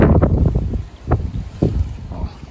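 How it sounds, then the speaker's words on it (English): Wind gusting across a food forest garden, buffeting the microphone in uneven bursts of low rumble with short lulls between gusts. "Oh, so windy today."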